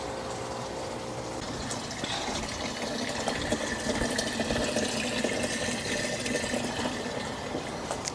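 Water gushes steadily into a container, filling it with liquid fertilizer to feed a garden; a continuous, fairly loud rushing flow with no talk.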